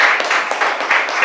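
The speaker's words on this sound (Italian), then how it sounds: "Per cui complimenti ancora a Silvio, bravo, e un applauso che..." Audience at a startup showcase event bursts into applause, brisk loud clapping from a crowd with individual claps audible, lasting briefly.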